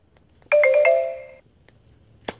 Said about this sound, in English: Sorry, my phone is blowing up today.